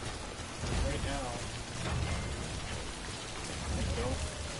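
Timefall rain in the game Death Stranding: a dense, steady hiss of rainfall on surfaces with low rumbling swells, loud and continuous from start to finish.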